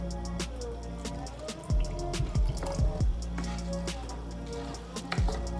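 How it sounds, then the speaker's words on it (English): Water poured into a simmering pot of rice and peas, with bubbling drips and a few sharp splashing pours over a steady low cooking rumble, close up and without talk. "Now I just added a little water."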